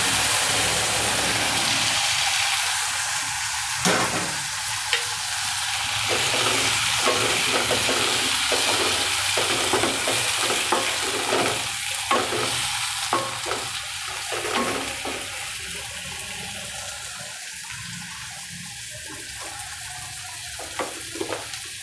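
Spinach tipped into a hot pan for palak gathiya curry sizzles and fries loudly and continuously, with repeated scraping and stirring strokes breaking through the steady hiss.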